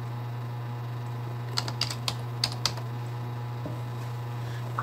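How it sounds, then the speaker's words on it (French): Keystrokes on a computer keyboard entering text into a text box, a short burst of quick clicks in an uneven rhythm over a steady low electrical hum, close and fairly quiet, with no voices. "Et on tape son texte."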